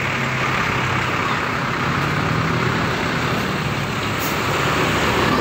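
A white bus with Daibus bodywork rolls past near a mosque religious-tourism site in Pandaan, East Java, a loud continuous roadside engine roar and tire rush with no talking.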